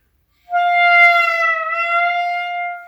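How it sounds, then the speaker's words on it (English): A jazz clarinet sounds a single sustained note that bends slightly downward and back, clear and close, after a moment of silence, with no talk. "one of the things that you have to do when you play jazz clarinet is this thing called bending"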